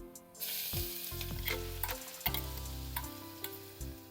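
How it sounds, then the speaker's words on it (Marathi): Green masala paste dropped into hot oil already holding mustard seeds, cumin and asafoetida, with the gas turned off, bursting into a sharp, crackling sizzle with popping spatters, close and fairly quiet, with no talking. "घालूया यामध्ये जिरे घालूया हिंग आणि आता घालूया मगाशी केलेला हिरवा मसाला"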